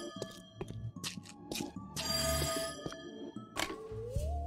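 A telephone rings in the video game There Is No Game, its bell tones repeating amid clattering game sounds and music.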